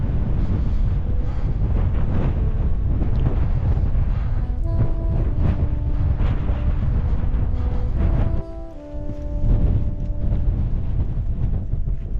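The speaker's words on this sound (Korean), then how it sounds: "바람이 불고 있어요." Strong, sand-laden wind roars into the microphone on a Himalayan trek toward Kanchenjunga base camp, a loud continuous buffeting with one brief lull partway through and no talking.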